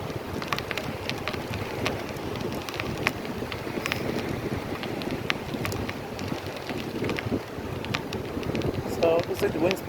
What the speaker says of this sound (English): So it looks like the wind's picking up.